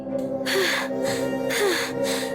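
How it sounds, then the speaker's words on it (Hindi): Heavy panting breaths after running, used as a horror story sound effect: two loud, rasping gasp-like inhalations about a second apart over a steady low background drone. "कुछ देर भागने के बाद वो फिर से हांफने लगे"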